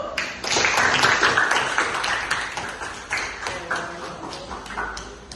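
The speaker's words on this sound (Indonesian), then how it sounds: "Oke, tepuk tangan dulu" A class of pupils claps hands in a classroom, a scattered, crisp patter of many small hands that swells early and then thins into uneven taps.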